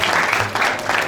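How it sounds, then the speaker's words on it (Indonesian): A short, loud burst of audience applause for a talk show guest, a brisk clatter of many hands clapping close by. "kita kasih tepuk tangan dulu dong teman-teman"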